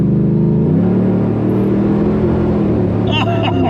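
The 550 hp LS3 V8 in a swapped Land Rover Defender growls loud and close, holding a deep rumble and then rising in pitch as it revs.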